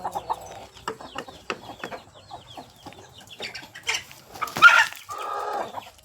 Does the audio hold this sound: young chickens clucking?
yes